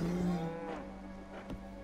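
A bull in the game Assassin's Creed Origins lets out a long, deep moo that fades out, followed by a couple of faint softer sounds, no talk.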